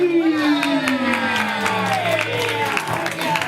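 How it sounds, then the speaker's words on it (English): A live event crowd cheers and claps continuously, a dense roar of whoops and applause with a host's amplified voice ringing over it. "Let's start clapping. I need you to start screaming. Let's make some noise."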